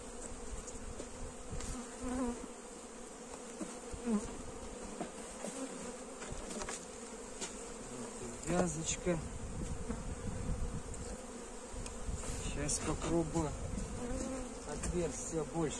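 A dense, steady buzzing of many bees fills the air close by as bees are moved between hives, with a voice speaking quietly now and then.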